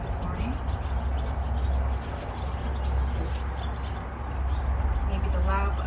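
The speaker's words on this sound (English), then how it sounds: "you can probably hear all of the birds" Birds chirp and coo throughout a morning outdoor setting, with scattered calls over a steady low rumble while a person talks.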